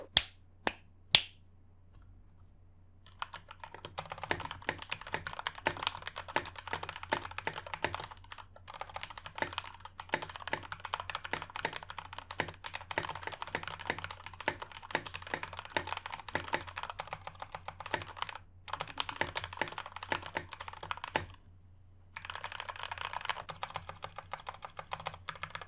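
Typing on a Ryunix XO-723 wireless mechanical keyboard, stock out of the box, with a few sharp isolated clicks first, then a long steady run of rapid clacking keystrokes with brief pauses, close and clear, no talk.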